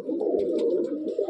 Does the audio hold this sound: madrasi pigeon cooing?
yes